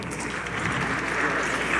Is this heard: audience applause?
yes